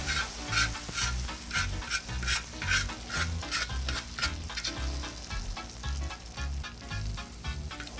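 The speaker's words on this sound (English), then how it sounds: "just let the sugar melt on its own" Sugar melting over low heat in a FireDisc cooker for bananas Foster, with butter in the pan, gives a steady close sizzle broken by repeated scraping stirs in an even rhythm, with no voices.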